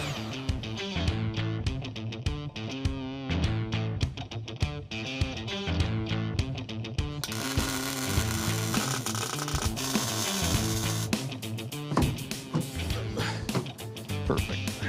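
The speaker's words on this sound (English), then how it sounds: "Put some rails on it, bolt that down." A ratchet bolts car seat rails down in a rally car being built, giving repeated quick clicking bursts in a rhythmic pattern, with mechanical rattles and some talk in the background.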